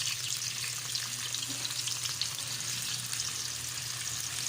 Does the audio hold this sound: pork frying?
yes